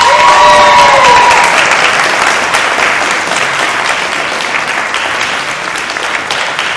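A crowd at the 2017 Huntingburg Herbstfest pageant applauds the newly crowned preteen winner, a loud, dense, steady wash of clapping that tapers slightly over several seconds.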